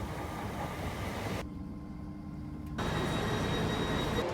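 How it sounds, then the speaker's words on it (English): A train pulling into a station toward Edinburgh, a steady low rumble and rolling noise that drops briefly, then swells louder again as it approaches, with no talking. "So the train's on the way in."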